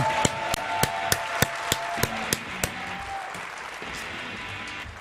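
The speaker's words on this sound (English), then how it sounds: "Everyone give a round of applause to Tim" Applause for Tim at Apple's WWDC conference: sparse clapping with a few sharp, evenly spaced loud claps standing out over a softer wash of hands, thinning toward the end.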